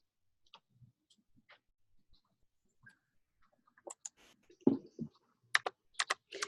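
Typing on a computer keyboard while coding in PyCharm, including backspacing: sparse, quiet keystrokes at first that quicken into louder bursts of clicks, with no talking.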